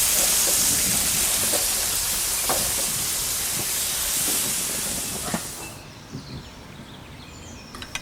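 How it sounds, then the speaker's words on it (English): Steaks sizzle on a hot Weber Q gas grill: a loud, steady, broad hiss that holds for several seconds, then drops away to a quieter, thinner crackle. "Ah, that sizzle as they hit the grill."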